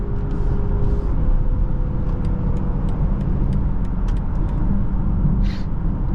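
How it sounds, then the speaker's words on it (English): A 2024 BMW X5 xDrive40i accelerates hard in sport mode, with a loud, steady engine and road rumble filling the cabin and no one talking. "Now let's put it in sport mode. Good acceleration, strong power."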